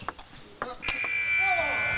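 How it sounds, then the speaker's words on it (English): An electronic end-of-match buzzer sounds at a professional table tennis match, a long steady tone rising out of commentary and a few ball and racket knocks. "And the buzzer goes just as that ball gets launched past the Drinkhall racket."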